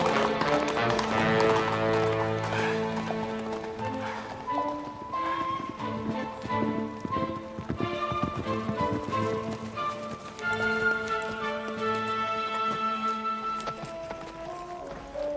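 A nobleman's horse clip-clops at a steady rhythm, its hoofbeats running underneath prominent music throughout.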